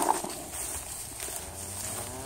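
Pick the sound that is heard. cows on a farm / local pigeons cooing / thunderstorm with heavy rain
cows on a farm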